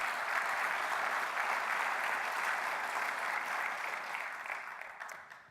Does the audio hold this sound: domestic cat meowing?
no